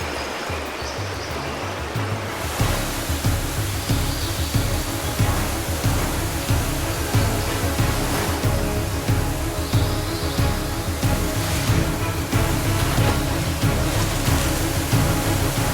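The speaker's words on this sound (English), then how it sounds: "a beautiful aquamarine pool with a picturesque cascade waterfall flowing into it" A cascade waterfall in Vanuatu pours into a clear aquamarine pool, a dense continuous rushing roar heard close up that grows fuller after a moment and then holds steady.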